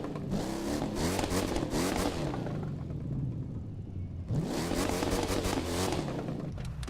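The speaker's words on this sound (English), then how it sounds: "So that's a really good sound for an F-150." A Ford F-150 pickup in the racing game The Crew 2 starts up and revs hard twice, each rev swelling into a loud, rough roar with a brief quieter idle between them.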